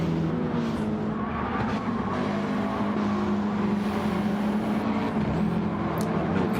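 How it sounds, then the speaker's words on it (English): Cars in an EVO versus WRX league race at Suzuka push through turn 1, a steady, loud engine roar underneath a thin edge of tyre squeal as grip is lost, with no talking. "Hear those tyres squealing, you don't know where the cars are going off track."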